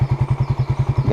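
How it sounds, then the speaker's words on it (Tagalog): A motorcycle engine warms up at idle, a close, steady, rhythmic low thumping pulse with light mechanical clatter, heard alone. "So papainitin lang yung motor"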